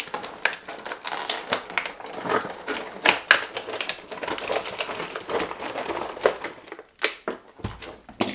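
Duct tape being peeled off a Bloodborne board game box, a run of sharp ripping and crackling bursts that stay close and loud throughout, with no talking.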